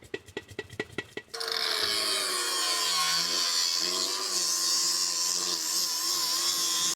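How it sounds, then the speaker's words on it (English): A loose slip-fit joint inside a car's muffler rattles, first as a quick run of sharp metallic ticks, then a sustained buzzing, grinding rattle with a droning harmonic tone, loud and close with no talking. "This is just a slip fit inside the muffler down here, and so that fit is not tight enough and was causing the rattle"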